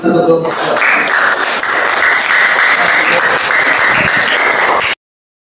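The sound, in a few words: classroom applause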